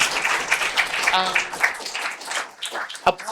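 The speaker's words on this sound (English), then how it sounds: "Let's give Jesper a very, very nice round of applause for this amazing talk." Applause from a lecture audience after a game-design talk at the NYU Game Center, uneven bursts of clapping mixed with voices, with one sharp clap near the end.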